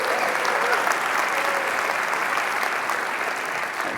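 An audience at the GopherCon 2015 closing keynote breaks into sustained applause, a thick, even roar of many clapping hands filling the hall for the whole stretch.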